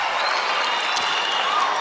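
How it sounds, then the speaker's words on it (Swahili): A crowd of students at a career fair in Kiharu breaks into continuous applause, steady, dense clapping filling the room for the whole stretch without a clear break. "Makofi kwa mheshimiwa Ndindi Nyoro"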